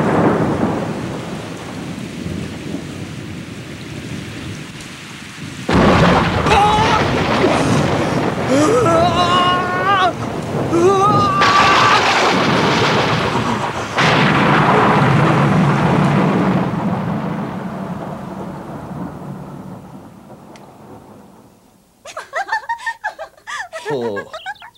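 Loud thunder crashing during a heavy rainstorm, with the steady hiss of rain throughout and a long, booming roll that fades, followed by people speaking at the end.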